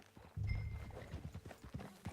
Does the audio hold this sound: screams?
no